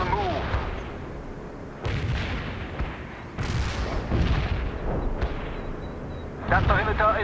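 Medium artillery fire in the World in Conflict video game: repeated heavy booms roughly every couple of seconds, each a loud broadband blast fading into rumble, with battlefield noise between them.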